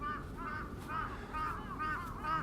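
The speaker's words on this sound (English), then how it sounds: "the crows are flying." Several crows caw repeatedly in a loose rhythm, fairly loud and outdoors on a sunny afternoon in Japan, with no voices.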